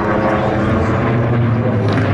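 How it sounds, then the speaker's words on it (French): Hawker Sea Fury, a late-1940s British propeller warplane with a sleeve-valve engine, drones steadily and loudly overhead at an airshow, a continuous low engine roar with no break. "Et oui, il s'agit du Hawker Sea Fury."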